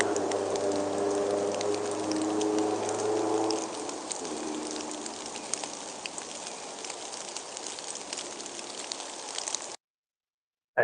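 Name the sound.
recording of rain on a car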